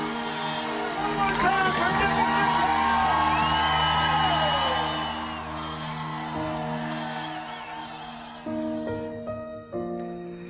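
A crowd whoops and cheers at a race finish line, loud and sustained at first and then fading. Tonal music plays underneath.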